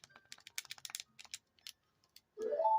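Game controller buttons being clicked repeatedly, a quick irregular run of sharp close taps followed by a brief rising electronic tone.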